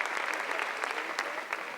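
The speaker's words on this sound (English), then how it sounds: "give him a huge round of applause" Sustained applause for an honoured guest at the 2010 Worlds VIP ceremony, a steady dense clatter of many hands clapping nearby, with no talk over it.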